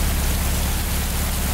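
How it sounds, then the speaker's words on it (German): Steady rain in the VR game Kobold: Chapter 1, a dense, even hiss of falling water that stays loud and constant with no voices over it. "Oh, es regnet."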